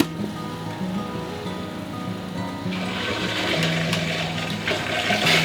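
An RV's onboard water pump hums steadily while water begins rushing through the faucets, the flow swelling into a loud, broad hiss about halfway through.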